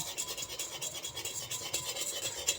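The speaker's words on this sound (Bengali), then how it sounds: "গুঁড়ো দুধটা দেওয়ার সময় কিন্তু এইভাবে দেওয়া লাগবে আর এইভাবে মেশানো লাগবে" Powdered milk being stirred into milk in a pot gives a faint, continuous rhythmic scraping and rubbing of the spoon against the pot.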